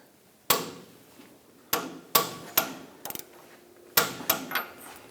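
A wrench tightens a castle nut on a Hummer H3 front CV axle, making sharp metallic clicks and clanks in separate bursts, close and fairly loud.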